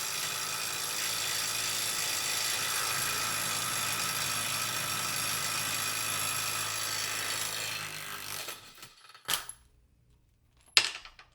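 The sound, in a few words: Kobalt cordless impact wrench torquing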